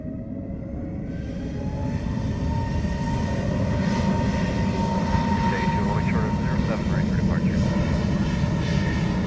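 Airplane taking off from runway 07 at Montego Bay airport, Jamaica, a loud steady jet engine roar that swells and holds, with faint tonal whine on top and a radio voice briefly underneath.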